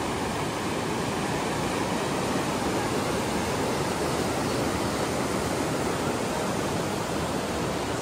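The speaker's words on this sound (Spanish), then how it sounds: "Está ahorita lleno el río. Anoche llovió y miren cómo se ve." A river in the southern Sierra of Oaxaca runs full after overnight rain, giving a dense, constant roar of rushing water that holds at the same loud level throughout with no voices over it.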